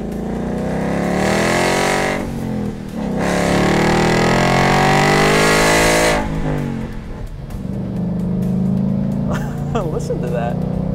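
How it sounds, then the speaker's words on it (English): A 2018 Ford Mustang GT Performance Pack with its active exhaust in normal mode, revving hard and loud through rising gear pulls, with brief drops between shifts, while someone talks over the engine. "We have the active mode exhaust on completely normal mode."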